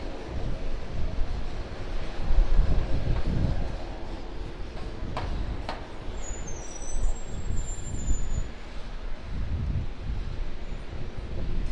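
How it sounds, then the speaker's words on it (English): A Beechcraft King Air turboprop taxis at Auckland Airport, a steady low engine drone with a higher whine, mixed with wind noise across the microphone, continuous and fairly loud throughout. "King Air taxiing in"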